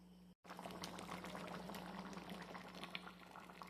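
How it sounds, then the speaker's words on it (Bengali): Paneer curry broth at a gentle boil in a pot, a soft continuous bubbling hiss with small pops and a low steady hum, faint and close, broken by a brief silent gap near the start. "আমার পনির তরকারির ঝোলটা ফুটে গেছে।"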